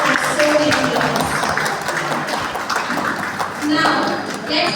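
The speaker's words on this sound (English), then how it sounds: "let us give a huge round of applause to the person whose presence has brightened our school for so many years" A crowd claps steadily at a school farewell ceremony, the applause running the whole time under a lively mix of voices and cheering.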